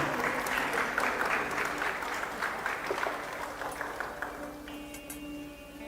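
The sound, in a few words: church congregation applause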